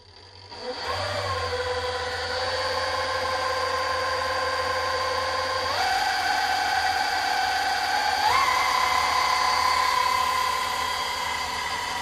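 The motor of a homemade mini mill starts up and runs with a steady tonal whine. Its pitch steps up twice as the speed rises, and it stays close and continuous throughout.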